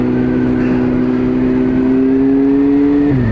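Honda FireBlade motorcycle engine held at a loud, steady rev, its tone slowly climbing before a sudden drop near the end, with no voices.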